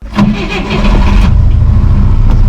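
A vehicle engine in Minecraft cranks and catches, then settles into a loud, steady running idle up close, with no talk over it.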